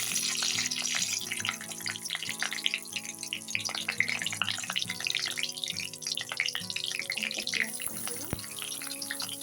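Dry red chillies and panch phoron hiss faintly in hot oil in a kadai, a quiet, steady crackle of sizzling mixed with background music that carries through the whole stretch.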